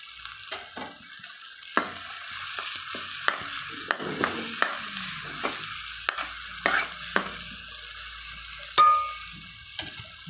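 Garlic and onion go into a hot pan while chicken liver and gizzard cook, giving a steady sizzle and frying hiss with repeated scraping stirs of a utensil against the pan.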